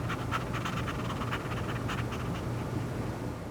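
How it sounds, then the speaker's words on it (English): A Dalmatian pants in quick, steady breaths over a dense, noisy background, continuous and fairly close with no talking. "that cutaway of a Dalmatian panting is really necessary"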